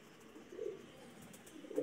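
A pigeon coos softly in two low, throaty bursts, faint and somewhat distant against a quiet background.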